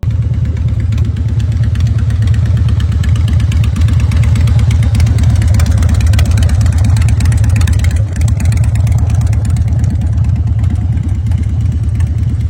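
A 2001 Harley-Davidson Dyna Lowrider custom motorcycle runs steadily, its engine a loud, close, continuous low-pitched throb with rapid even pulses and no talk.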